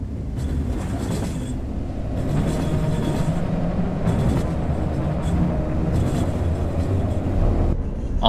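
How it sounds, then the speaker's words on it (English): Trains in a video game roll past hauling carts full of dead animals, a steady low rumble and clatter of wheels on rails that fills the scene at moderate loudness, with a few brief knocks and no voices. "All these trains, they're carrying carts full of dead animals."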